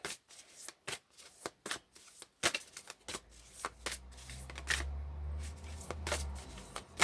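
Tarot-style cards shuffled by hand, a series of sharp close riffling bursts in an uneven rhythm, joined midway by a low steady hum, no talk.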